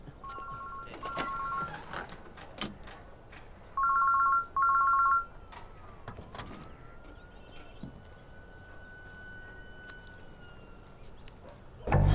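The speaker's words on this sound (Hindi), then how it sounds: "घंटी जा रही है भाई।" A mobile phone rings with short repeated two-tone electronic bursts in a few separate rings, fairly loud over a busy background hum and occasional noises.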